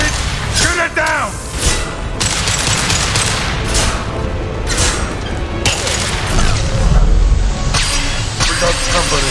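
Gunfire in the Mass Effect 2 video game as a loose fuel tank is shot down onto enemies: rapid bursts of shots and booms over a battle din, loud and close, with characters talking over it.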